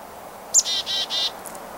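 Chickadees call nearby: a sharp opening note followed by three quick, buzzy 'dee' notes in an even rhythm, then a faint trailing chirp against a quiet background.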